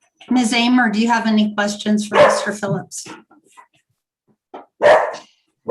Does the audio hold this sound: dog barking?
yes